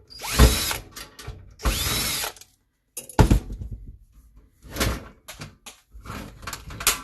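Hidden screws being worked out of the back of an old computer CD drive, with several bursts of whirring driver and clicking mechanism separated by short pauses, close up.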